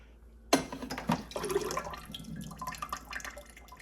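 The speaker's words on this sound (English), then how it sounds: "next we're gonna drain the water from the system" Water drains from a ReadyRefresh water dispenser, starting with a sudden splash and then running on in a close, uneven gurgling and dribbling stream.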